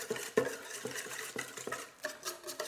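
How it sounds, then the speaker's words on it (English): A whisk scrapes and clinks around a bowl of lemon marinade for carrots in a quick, uneven rhythm of close, fairly soft metallic taps and swishes. "we're just gonna give this a quick whisk"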